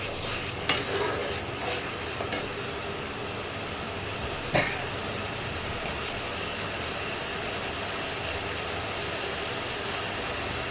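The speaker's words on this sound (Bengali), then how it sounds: "এবার মশলাটা দিয়ে তেল বেরোলে তবে আমি আনাজগুলো দেব। একটু ভালো করে কষিয়ে নিচ্ছি।" Spice masala sautéing and being stirred in hot oil in a pan, a steady close sizzle and scraping with a few sharp clicks of the spoon early on, no voices.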